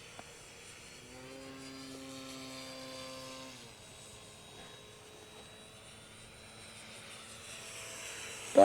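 The electric motor of an RC Ki-44 model airplane on its maiden flight whines through a 3D air-combat routine, its tone sliding down as the plane passes, then holding steady before a sudden loud burst at the end.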